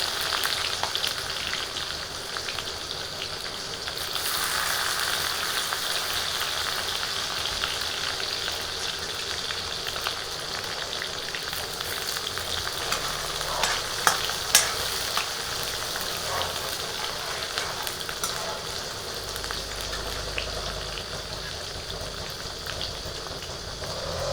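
Onions fry in a pan with salt as the start of a mushroom gravy, giving a steady, close sizzle throughout with a few faint clinks of stirring and no talk.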